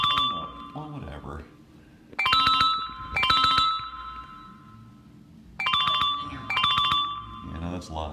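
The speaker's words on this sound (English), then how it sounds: "someone's calling because I'm picking the phone up" A phone ringing on a busy workbench, its electronic ringtone sounding in four short repeated bursts across the stretch, loud and clear over steady background noise, with people talking in between the rings.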